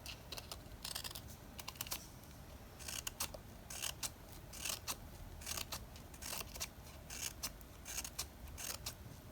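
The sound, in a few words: cutting slits for a witch's broom craft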